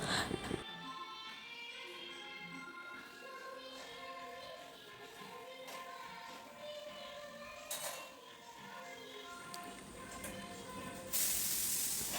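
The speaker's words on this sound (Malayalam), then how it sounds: "അതിനിടയ്ക്ക് കുക്കർ വിസിലടിക്കുന്നുണ്ട് കേട്ടോ" A pressure cooker lets out a loud, sharp burst of hissing steam near the end, following a quieter stretch of kitchen background.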